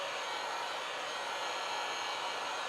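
A heat gun blows over resin, producing a steady, even hiss of rushing air at moderate level for a few seconds, alone with no voices.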